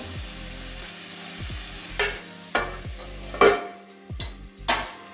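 Cauliflower fries in a pan under a constant sizzle, broken by several sharp scraping clinks as a utensil stirs and knocks against the pan at irregular intervals, close up and without talk.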